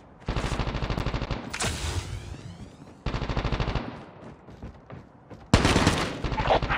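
AK-47 fire in the mobile shooter Call of Duty Mobile comes in loud, rapid automatic bursts, separated by short gaps and a sharp final volley, with faint game voice cues in between.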